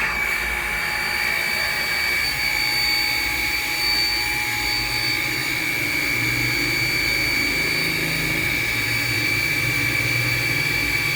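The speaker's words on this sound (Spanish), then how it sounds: "Voy a abrir esta llave para que vean el presurizador y la bomba encendida." A household water pump and pressurizer run steadily near at hand, a continuous droning hum with a high whine held at an even level throughout.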